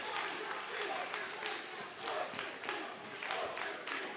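A wrestling crowd at a PCW Ultra light heavyweight championship match cheers and claps for the reigning champion Mr. 450, a steady roar of applause with rhythmic clapping bursts and a commentator talking over it.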